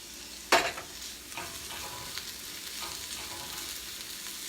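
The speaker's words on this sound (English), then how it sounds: "I'm going to add my black olives that I have diced up." Diced black olives tipped into a hot frying pan and stirred, a brief clatter followed by a steady, close sizzle with light scraping.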